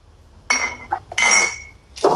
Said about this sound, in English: So we have a glass jar.